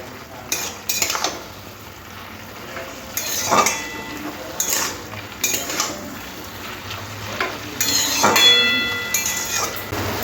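A metal spoon clinks and scrapes in a pan as spice paste is stirred into bottle gourd greens with shrimp, giving intermittent clattering strokes over a quiet background, close by.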